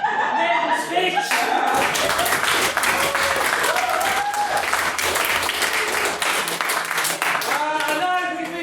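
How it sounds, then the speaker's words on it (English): An audience at a parliamentary-style debate applauds a distinguished maiden speech, with steady clapping, scattered laughter and chuckles, and some talk mixed in. "Can I please get another round of applause for a distinguished maiden speech?"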